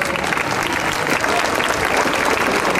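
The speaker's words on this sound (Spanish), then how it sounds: "Fuerte el aplauso para los chicos" Loud, dense applause from an anniversary celebration crowd for Ukrainian ballet dancers, sustained and even throughout, with a faint murmur of voices underneath.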